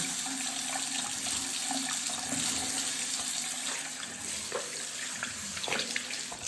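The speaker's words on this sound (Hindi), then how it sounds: "First start with washing of your hands." Tap water runs steadily into a sink during handwashing as part of a morning skincare routine, a loud, continuous splashing rush with no voices.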